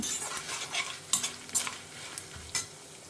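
Spices and asafoetida dry-roast in a pan for huli saaru, heard as a close, dry rustle with a soft sizzle and occasional sharp scrapes of the spoon against the pan.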